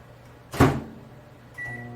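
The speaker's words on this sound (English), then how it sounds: "we'll put them in that microwave for about a minute" A kitchen microwave oven heats biscuits rolled in paper towel, with a sharp door or latch clunk followed by a steady low hum and a tonal beep as it starts running, close by with no talk.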